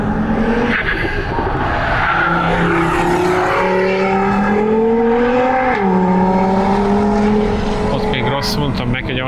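A tuned car, a Hyundai Genesis Coupe 2.0T or Audi TT RS, laps a race track at speed, its engine note rising and falling steadily and loudly while people talk over it.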